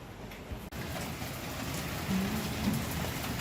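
Summer rain in a Dutch village falls steadily as a dense, even hiss of drops on surfaces, close and continuous, with a brief knock early on.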